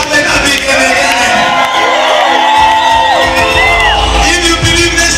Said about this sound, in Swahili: Kama umebarikiwa ongeza shangwe na vigelegele.